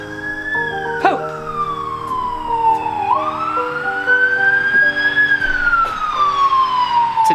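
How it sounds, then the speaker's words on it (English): An ambulance siren wails loudly and steadily, its pitch sweeping slowly down and back up as the vehicle passes nearby, with faint background noise beneath it. "A rusty old ambulance."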